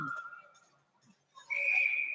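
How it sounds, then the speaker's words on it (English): Referee's whistle at a 14U AA youth hockey state championship game, a long steady blast that sounds loud and sustained near the end, with a fainter earlier tone and arena noise around it. "Oh, and the whistle blows."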